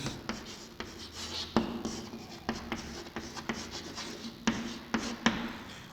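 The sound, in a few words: teacher writing a sentence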